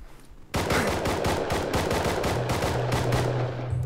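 Rapid automatic gunfire aimed at a bear in the video game Rust, loud, close shots in quick succession for several seconds, with a low hum rising underneath toward the end.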